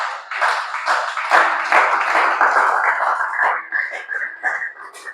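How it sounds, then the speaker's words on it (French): Church congregation applauding the Lord during a thanksgiving service, a dense burst of hand clapping that carries on for several seconds with voices mixed in, thinning toward the end. "On acclame le Seigneur."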